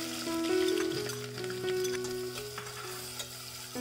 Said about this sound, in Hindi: तेल गर्म हो गया, तो अब हम इसमें ये प्याज है हमारे पास कटी हुई,